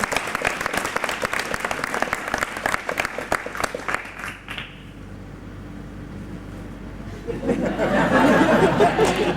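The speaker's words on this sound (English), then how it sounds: "Everyone please give a huge round of applause for our two brave aviators." At a Batman Forever theme-park stunt show, the crowd bursts into sharp, close clapping and chuckles, then the noise drops to a hush before swelling again into broad applause and chatter.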